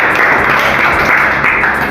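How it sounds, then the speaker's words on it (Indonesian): Classroom students clap for a presenting group in a lesson on climate change, a dense, steady patter of many hands close by that holds for the full two seconds. "Berikan tepuk tangan untuk kelompok 2."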